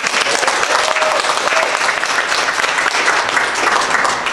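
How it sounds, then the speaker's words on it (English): Steady, dense applause from an audience at a Providence climate jobs event fills the room for the full stretch, loud and even, with a faint voice briefly audible early on. "So a round of applause to the Climate Jobs team."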